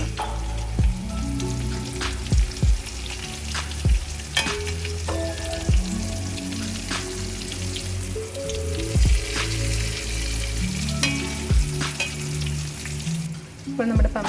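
Pumpkin slices fry in oil in a pan over a medium flame, a steady close sizzle with repeated sharp taps and clicks of a utensil against the pan, no talk.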